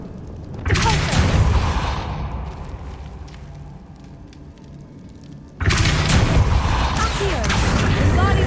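A spell burst from the video game Hogwarts Legacy: two loud, dense whooshing blasts, one at the start and a longer one near the end, with quieter magical ambience in between.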